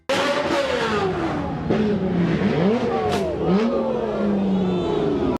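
Modified supercars revving hard during a Modball Rally parade, engines rising and falling in loud sweeping roars that overlap continuously from start to finish, with a faint crowd behind.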